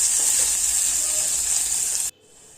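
Chopped onions fry in a pan with a loud, even hiss close up, broken by light stirring scrapes, until the sizzle drops sharply to a faint hiss near the end.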